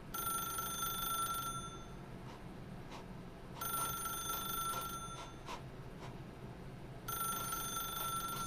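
A telephone in the Stanley Parable video game rings in repeated bursts with gaps between them, a bright electronic ring heard over a steady low background hum.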